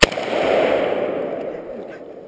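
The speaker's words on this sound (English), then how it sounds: "I'm shooting my damn gun." One sharp shot from a Vector Arms AK47 Underfolder rifle fired outdoors, a sudden loud crack at the start followed by a long rumbling echo that fades away.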